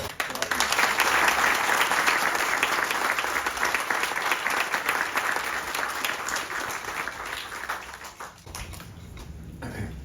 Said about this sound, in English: I'd like a round of applause for Charlie Stillwell.